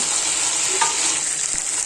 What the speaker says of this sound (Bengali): নাড়াচাড়া দিয়ে মিশিয়ে নিলাম